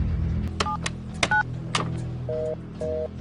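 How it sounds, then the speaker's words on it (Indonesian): Telephone keypad tones beep in a few short pairs, then two longer steady tones, as someone in a cramped hiding spot during a school zombie outbreak tries to dial emergency number 119; no one speaks. "berjuang menelpon 119 di tempat sempit itu"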